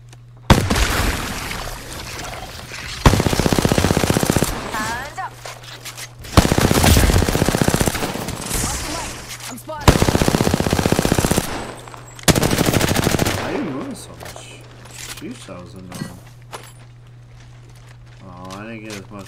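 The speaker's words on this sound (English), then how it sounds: "I'm gonna shoot these spiders real quick." Video game gunfire shooting spiders: several bursts of rapid automatic fire, each lasting a second or two, separated by quieter gaps, with a steady low game hum and talk over it.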